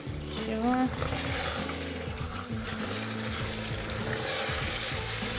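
Whole garlic cloves frying in a hot pan, a steady sizzle running throughout under a man's and woman's conversation.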